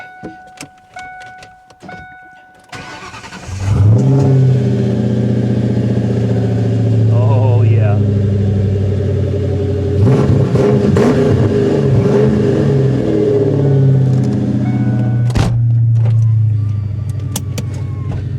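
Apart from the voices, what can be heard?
Mustang V8 engine starting, aftermarket exhaust rumble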